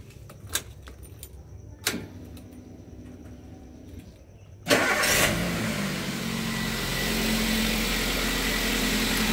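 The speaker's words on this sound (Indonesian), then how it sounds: "Kita akan coba tes hidupkan mesin." A Toyota Avanza / Daihatsu Xenia car engine is started: a few key clicks and jingles, then the starter catches at once and the engine settles into a steady, close idle that continues to the end.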